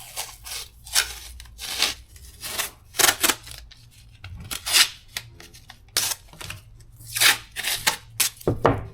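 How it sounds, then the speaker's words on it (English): Scissors cutting a small piece of plastic sheet from a fiberglass roll while patching a boat hull: a string of close, crisp snips and crinkles in uneven bursts, with no talk. "all I'm going to do, cut a little piece of plastic. It come on the rolls of fiberglass."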